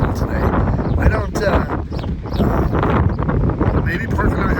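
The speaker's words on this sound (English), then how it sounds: "It is so freaking windy." Strong wind buffets the microphone outdoors in a casino parking lot by a camper van, a loud continuous rumbling roar with gusts and a person speaking underneath.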